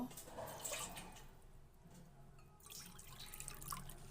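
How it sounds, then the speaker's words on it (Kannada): Faint splashing and trickling of two cups of water being poured into a bowl for dough, quiet and close, with a short lull midway. "ಎರಡು ಕಪ್ ನೀರು ಹಾಕ್ತಾಯಿದ್ದೀನಿ"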